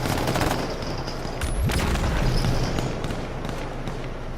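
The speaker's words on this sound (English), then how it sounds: "Here's where I get some shotgun action in" Shotgun blasts and bursts of gunfire in a chaotic H1Z1 battle near a gold crate, loud and continuous with a sharp burst around the middle over dense background noise.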